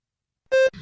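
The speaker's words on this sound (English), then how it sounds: "Begin speaking after the beep." A single short electronic beep, the prompt to begin a spoken TOEFL response, sounds after a moment of silence, clear and steady, followed by a brief low noise.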